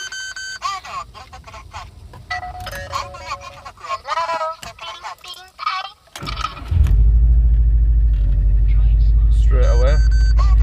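A Subaru STI turbo engine cranks and fires up near the end after a stretch of someone talking, then settles into a loud, steady, deep rumble close by.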